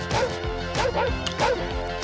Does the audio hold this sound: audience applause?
no